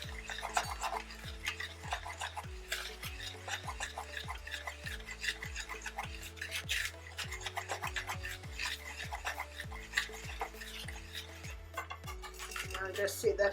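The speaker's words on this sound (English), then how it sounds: "I'll be mixing that together to combine the flour with" Flour and cornmeal are stirred together in a bowl for a cornmeal pudding, a steady scraping and rasping of utensil against the bowl repeating in an even rhythm throughout, close and moderately loud, with faint background hum.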